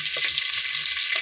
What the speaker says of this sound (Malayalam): തവി കൊണ്ടൊന്ന് ഇളകി കൊടുത്താൽ സെറ്റായി